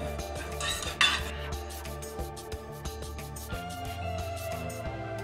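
Cumin, fennel and whole coriander seeds dry-roast in a dry pan for a raw mango pickle spice, heard as close, busy scraping and rattling of a spoon stirring the seeds against the metal, with a brief louder clank.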